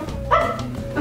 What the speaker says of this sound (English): I heard the dog squad wanted to call their two new dogs Timex and Rolex